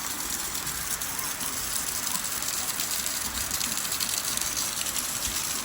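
Heavy rain pours down in a village, a dense, unbroken hiss that holds steady from start to finish.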